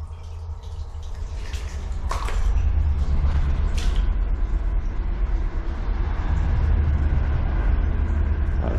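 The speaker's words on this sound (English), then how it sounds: "That was the train just going overhead." A train rumbles overhead above a tunnel, heard from inside as a deep, sustained low roar that swells after the first two seconds and stays loud, with faint metallic clanks and hisses on top.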